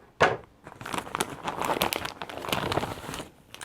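Vacuum-sealed plastic packaging holding yarn is cut open with plastic-and-paper scissors, giving close crinkling and crackling of stiff plastic in irregular bursts.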